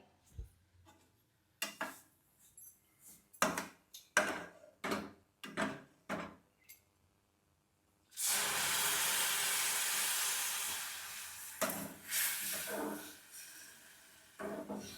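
Milk poured into roasted semolina in a hot pan bursts into a sudden loud, sustained hissing sizzle that slowly fades, following several seconds of scattered clicks and taps.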